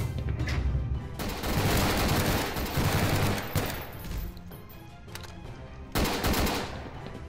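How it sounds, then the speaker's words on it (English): Rapid automatic gunfire from a Garry's Mod game, dense bursts of shots rattling continuously with short pauses between volleys, loud and close with no talk over it. "Nice shot, Patrick. Got them both."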